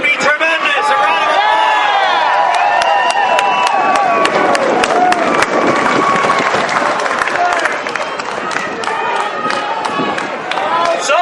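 Rally crowd at an anti in-state tuition event breaking into loud, dense applause and cheering, with shouts and overlapping voices throughout, close and sustained.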